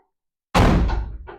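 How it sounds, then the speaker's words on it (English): A car door shuts with a single solid, close thump after a short silence, followed by a softer rattle as it settles. "the door's still open and shut on the car"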